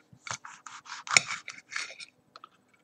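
A knife cuts a small 7 Pot Bubblegum chili pepper in two on a board, producing a quick run of crisp slicing and scraping strokes, close and moderately loud, ending in a couple of light taps, with no talking.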